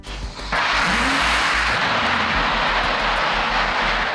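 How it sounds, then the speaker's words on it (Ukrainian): Firefly Aerospace rocket engine test firing: after a short muffled lead-in, a sudden loud, sustained broadband roar with deep low rumble holds steady to the end, with no voices. "на цих кадрах тестування двигуна для ракети носія української приватної космічної компанії Firefly Airspace"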